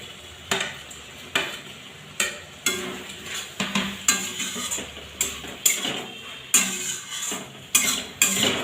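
Fried prawns being stirred with masala in a pan: a regular series of sharp scraping and clattering utensil strokes against the metal pan over a light sizzle, close up, with no voices.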